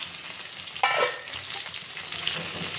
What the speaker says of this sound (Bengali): এখন আলু দেখো ভাজা প্রায় হয়ে গেছে